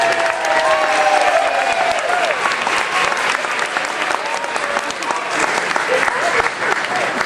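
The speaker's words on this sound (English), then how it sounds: "How about another big round of applause?" An audience at a school concert and ceremony gives loud, sustained applause that fills the hall steadily for several seconds, with a voice speaking faintly over the clapping.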